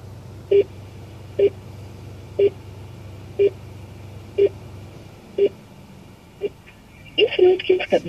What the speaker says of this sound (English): If you just push and hold this button, which shows like a pickup call, it will redial the last number. And it's calling the last dial number.